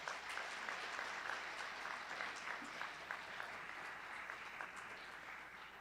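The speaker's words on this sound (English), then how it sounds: "A round of applause." An audience at a Wallace Fry speech competition event gives a round of applause, steady dense clapping that holds for several seconds and slowly tapers, heard at a modest distance.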